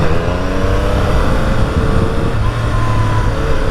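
A Triumph Speed Triple motorcycle engine running on the street, a smooth continuous drone with faint rising and falling pitch, loud and close without any speech over it.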